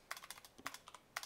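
Rapid typing on a computer keyboard while entering code, a quick uneven run of crisp, close key clicks with no voices.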